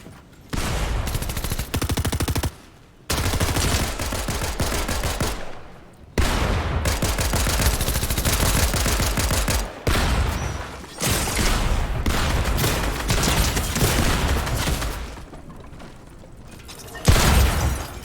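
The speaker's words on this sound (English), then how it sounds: "Shots fired as I believe it's a 1v1 currently." Gunfire in the video game Fortnite: loud, close bursts of rapid automatic fire repeat for several seconds at a time, broken by short silent gaps, with a heavier boom near the end.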